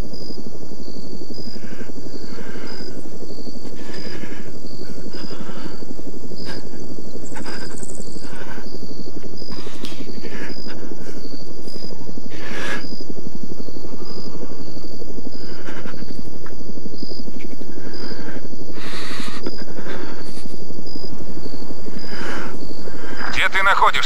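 Helicopter rotor drone holds steady throughout, with a faint insect-like whine overhead and intermittent radio voices calling out positions over the sustained engine sound.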